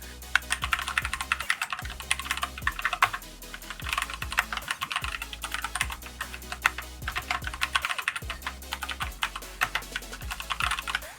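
Rapid clacking of a Keychron K4 V2 wireless mechanical keyboard being typed on, dense bursts of keystrokes with brief pauses, close and clear with no speech.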